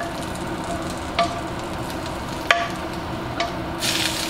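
Steak sizzles steadily in a hot pan as it is basted with its own pan juices, a constant frying hiss with a few sharper spits and a brief louder burst near the end, no voices.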